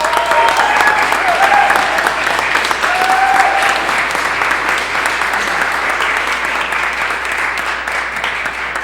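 Steady applause from a township committee meeting audience, a dense even patter of clapping holding for several seconds and slowly thinning toward the end.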